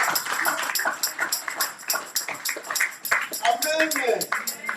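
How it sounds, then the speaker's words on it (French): A church congregation applauding during a Sunday service, with clapping and scattered cheering voices mixed into a steady crowd din, fairly close and continuous. "Acclamons encore les seigneurs."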